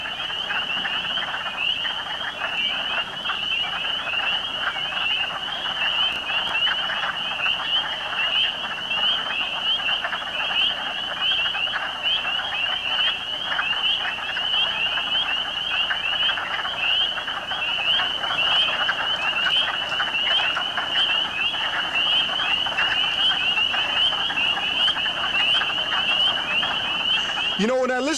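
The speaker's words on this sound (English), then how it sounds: "there's chirping and there's croaking going on right now on top of Sleeping Giant Mountain" A dense chorus of spring peeper frogs on top of Sleeping Giant Mountain, shrill high chirps layered with some croaking, steady and unbroken throughout.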